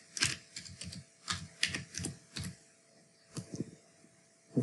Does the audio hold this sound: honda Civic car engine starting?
no